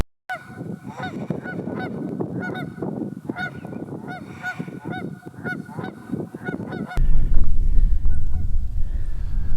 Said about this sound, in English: Oh, Canada geese.